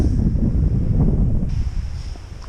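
Gusty coastal wind buffets the microphone on a beach along the South West Coast Path, a loud low rumble that surges and eases over a couple of seconds with no one talking.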